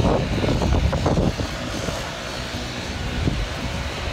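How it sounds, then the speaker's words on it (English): Lawn mower engine running outdoors during a spring mowing job in Shelby, Ohio, a steady broadband drone that is louder at first, then eases to a constant hum at moderate distance. "There's a lonely mower."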